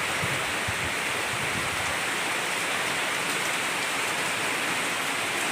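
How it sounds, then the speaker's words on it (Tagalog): Heavy rain pours steadily, a dense continuous hiss of water falling on surfaces, loud and unbroken throughout. "Malakas ang ulan."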